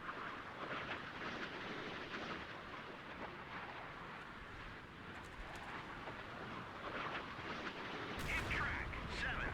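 Naval guns fire at a transport ship in the Sea Power naval combat game. Distant, muffled booms and rumbling bursts roll on steadily at low volume, with a sharper burst near the end.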